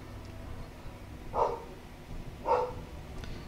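Two short barks from dogs a little way off, each one brief and separate, about a second apart, over a low background rumble as a garbage truck climbs the street.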